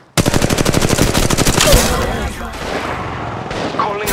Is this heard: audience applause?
no